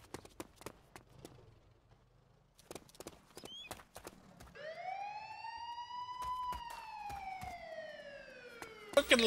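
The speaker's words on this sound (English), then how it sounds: "I hear the siren." A video-game police siren wails, rising then slowly falling in a long sweep, starting midway through after scattered sharp clicks and taps.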